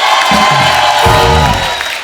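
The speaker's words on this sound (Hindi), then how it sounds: "एक बार जोरदार तालियां हो जाए।" A loud studio audience at a TV comedy show applauding and cheering, dense clapping with shouts and whoops rising over it, steady throughout.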